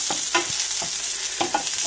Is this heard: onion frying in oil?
yes